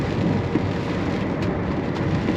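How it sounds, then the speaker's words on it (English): Heavy rain pours down steadily outdoors near a farm yard, making a dense, continuous hiss and patter throughout with no pauses. "it's chucking it down with blooming rain"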